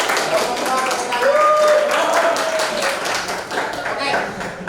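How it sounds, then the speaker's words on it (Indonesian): Students in a biology class clap their hands in groups, a busy stretch of fairly loud, overlapping claps and taps with classroom chatter mixed underneath. "Berarti kelompok 1 tepuk tangan dulu."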